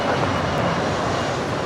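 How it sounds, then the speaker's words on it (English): A Bombardier Challenger 650 business jet departing LAX for Vancouver produces a loud, continuous jet-engine roar, steady throughout the short stretch. "that is a Bombardier Challenger 650 off to Vancouver"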